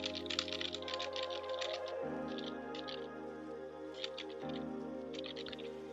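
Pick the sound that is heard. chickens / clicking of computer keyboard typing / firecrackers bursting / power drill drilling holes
clicking of computer keyboard typing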